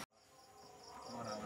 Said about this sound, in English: I hate crickets.